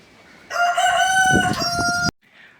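A free-range rooster gives a single loud, close crow lasting under two seconds, with a rising and falling tone, followed by a brief soft cluck.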